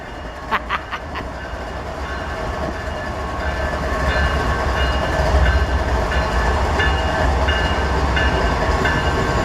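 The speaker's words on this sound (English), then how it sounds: "I lucked out. I get to see some trains yet." A train rumbles past nearby, a loud steady roar of rolling wagons with rhythmic clanks, building in volume and continuing for several seconds.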